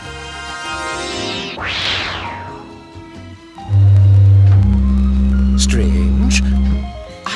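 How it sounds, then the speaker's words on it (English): A foghorn from an old record of country sounds: a deep, steady, loud drone that starts partway through and holds to the end, following a mix of other recorded sounds. "I said a foghorn, Miss Sullivan."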